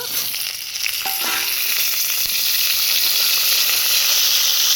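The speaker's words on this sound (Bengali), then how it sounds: "তেল গরম হয়ে গেছে, পটলগুলো এর মধ্যে দিয়ে ভেজে নেব।" Pointed gourd frying in hot oil in a pan, a loud, steady sizzle throughout with a few faint clinks early on.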